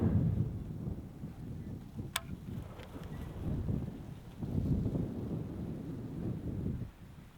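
Gusty wind buffets the microphone outdoors at a shooting range, low rumbling surges rising and falling with a brief sharp click partway through, no speech.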